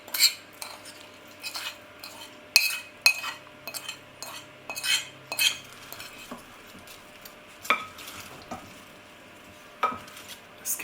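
Carrot and cauliflower pieces coated with spices are stirred in a metal bowl with a utensil, producing close, irregular clinks and scrapes that repeat steadily, with no talking.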